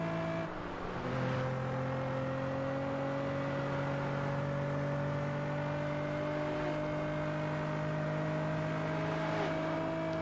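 A car engine in the racing game Test Drive Unlimited holds a steady rising drone as the car accelerates, the tone climbing gradually and staying smooth and continuous.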